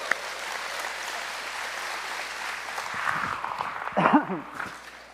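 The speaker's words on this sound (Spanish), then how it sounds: "Un aplauso para la honestidad de David." A crowd applauds steadily, a dense wash of clapping that swells briefly near the end.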